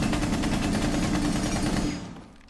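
SMG fire in Rainbow Six Siege, a loud sustained rapid burst of shots that keeps up for about two seconds, then trails off, without talk.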